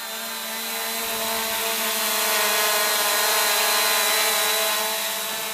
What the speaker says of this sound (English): The props spin up, and then one touch takeoff here on the takeoff button.